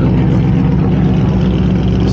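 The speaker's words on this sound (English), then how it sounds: "Starting to hear some cold starts." Cars cold starting at an outdoor show-and-shine car show on a dreary December day, a loud steady engine rumble and idle roar filling the scene with no talk.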